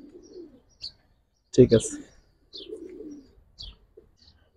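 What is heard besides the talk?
pigeons cooing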